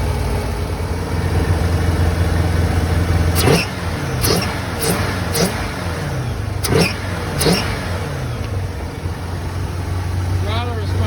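A boat's marine engine fitted with Holley Sniper EFI idles with a steady low rumble, then gets several quick throttle blips that rise and fall in pitch, close and loud.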